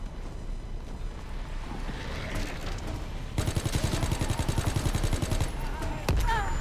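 Video game gunfire rings out on the Zombies map "Le Dernier Reich", a rapid, loud burst of repeated shots that starts midway and keeps going, with an earlier stretch of quieter rumbling action.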